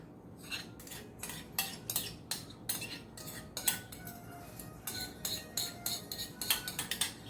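A metal spoon scraping and tapping against a baking dish while sauce is spooned over manicotti: rapid, irregular clinks and scrapes, close and fairly crisp, over a low kitchen background with no talking.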